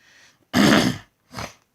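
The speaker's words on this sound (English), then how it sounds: "I'm just clearing my throat" A person clears their throat with one harsh, forceful rasp, then a shorter second one, close to the microphone with brief quiet gaps.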